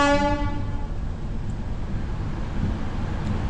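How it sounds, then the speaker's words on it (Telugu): A train pulling out of Ajmer station sounds a loud horn at the start, then a steady low rumble of rolling railcars continues close by without talk. "3:46కి మన ట్రైన్ అయితే స్టార్ట్ అయిపోయింది ఫ్రమ్ అజ్మీర్"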